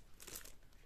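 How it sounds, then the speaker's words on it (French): A plastic full slip is pulled off a collectible box in one short crinkling, crumpling rustle, close and fairly quiet. "Et donc il nous reste le full slip. Donc je vais déballer ça tout de suite."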